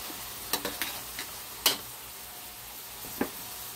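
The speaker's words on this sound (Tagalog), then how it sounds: "Igisa natin muna siya para naman maluto siya na masarap din ang kanyang lasa." Mushrooms and sliced cheese sautéing in a pan: a soft steady sizzle with a handful of light clicks and scrapes of a utensil stirring, quiet and close, with no talking.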